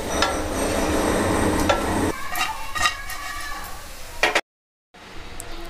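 A spoon stirs spiced potato fry in a pan, with quick scraping strokes over a soft sizzle, loud and close, ending in a brief silence before the stirring resumes.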